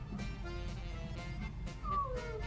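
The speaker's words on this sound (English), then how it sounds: "I hope you can hear my cat all the way from here." A faint cat meow rises briefly near the end over a low background hum and soft noise.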